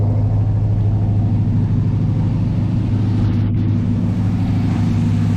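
A Camaro's engine rumbles steadily at idle through its exhaust, close and loud, with a deep continuous drone and no talking.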